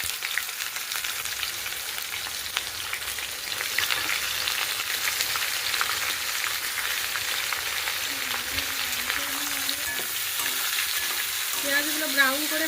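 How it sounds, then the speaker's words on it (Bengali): Onions fry in hot oil in a kadai along with bay leaf, dried red chillies and whole garam masala, giving a loud continuous sizzle with scraping stirs; a faint tonal whine rises near the end. "এবার কড়াইতে পেঁয়াজগুলো দিয়ে দিচ্ছি।"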